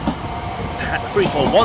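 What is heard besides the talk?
London Overground train departing Bethnal Green station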